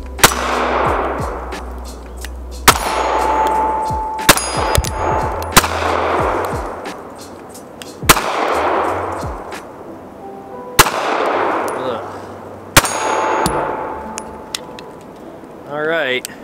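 Walther PPS M2 pistol shots, single loud cracks spaced a few seconds apart and followed by ringing clangs off steel targets, with talking heard between shots.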